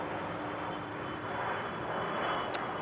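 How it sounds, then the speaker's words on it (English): A fixed-wing airplane drones steadily overhead for the whole stretch, a broad, even engine rumble with no talk, holding at a moderate level. "It's a plane. I will let the plane pass."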